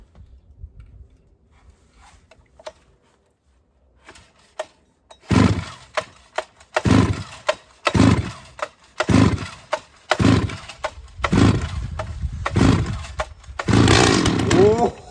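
An old STIHL petrol chainsaw, kept new in its box for 40 years, is pull-started: quiet handling first, then repeated loud cord pulls and sputtering firing bursts that catch into a close, rasping engine run.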